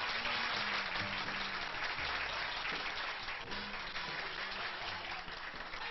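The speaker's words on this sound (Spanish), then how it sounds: "¡Un aplauso!" Applause from an audience, moderate and steady throughout, heard at some distance with a low murmur underneath.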